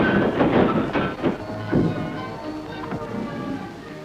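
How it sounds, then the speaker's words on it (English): An express steam train backs slowly into a station nearby and couples up, with irregular clanks, knocks and rumbles of wheels and couplings, no voices. "the express engine backs into the station with all the dignity of the star performer"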